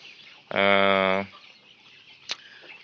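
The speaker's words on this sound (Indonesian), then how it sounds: "Ternak ayam kampung." A free-range village chicken lets out one loud, drawn-out cluck up close, followed by a short sharp squawk in a quiet farmyard.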